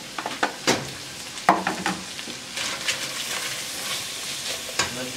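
Carrot sautéing in a pan for couscous farofa with calabresa, with a soft steady sizzle broken by sharp clicks and scrapes of a spoon stirring against the pan, close and alone.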